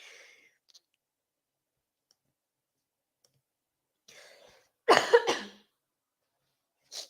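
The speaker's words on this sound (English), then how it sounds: "Sorry, everybody, for, all my coughing" A single sharp cough breaks a near-silent stretch, with a few faint clicks and soft breathy sounds before it.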